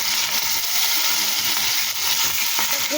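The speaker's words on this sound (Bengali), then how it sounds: "মাছগুলো এবার ভেজে নেব" Fish frying in oil in a wok gives a loud, close, continuous sizzle with crackling bursts and no talking.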